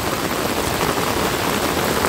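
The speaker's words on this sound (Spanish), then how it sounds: "Ahorita está lloviendo, pero no está lloviendo así tan fuerte" Light rain falls steadily on a cornfield, a dense, even hiss of drops that stays constant and fairly loud throughout with no voices.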